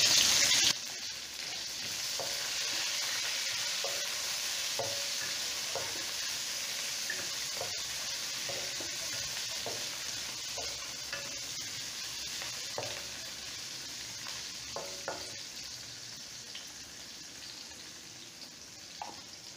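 Onion with green and ripe red chillies frying in a pan for bottle gourd kootu, a strong continuous sizzle near at hand, with faint stirring taps scattered throughout and a brief splash at the start.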